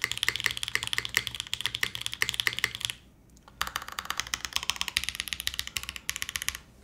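Fast typing on a lubed Bauer Lite mechanical keyboard, dense crisp clacks in continuous bursts with a short pause midway, close and clear without speech.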